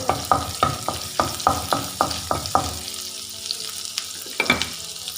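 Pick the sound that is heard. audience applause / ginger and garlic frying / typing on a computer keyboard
ginger and garlic frying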